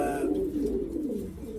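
A pigeon coos softly in a low, continuous rolling call at close range, with no talking over it.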